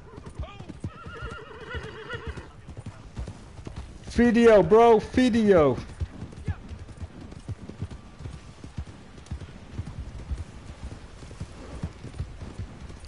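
A group of horses in Red Dead Online clip-clops steadily, with a loud whinny rising over the hooves midway, while players chat throughout.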